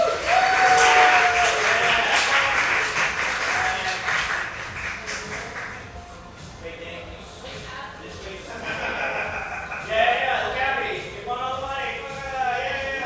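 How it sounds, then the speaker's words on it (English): Applause from the audience at a chess event for the champions: a sustained wash of clapping that fades a little, then picks up again, with voices and crowd murmur mixed in. "One more big round of applause for our champions."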